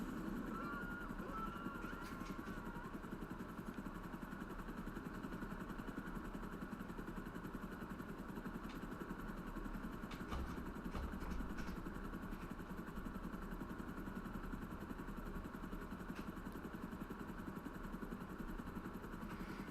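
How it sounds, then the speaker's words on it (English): Steady rotor and engine drone of the Sparrow helicopter in Grand Theft Auto Online, a constant mid-level hum running throughout with faint background sounds. "now that's why I love the Sparrow. That and it's the fastest helicopter in the game"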